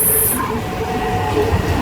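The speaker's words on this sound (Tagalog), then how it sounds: "Parating na ang MRT guys." A Taipei MRT Red Line metro train pulls into the station toward Tamsui, a loud steady rumble with a tonal whine and mechanical hum, close and sustained through the short stretch.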